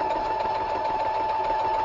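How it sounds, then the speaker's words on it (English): A sewing machine for quilting outdoors runs continuously, a steady mechanical whir with a constant tonal hum and fine rapid vibration, moderately close and uninterrupted. "We finally have the sewing machine going."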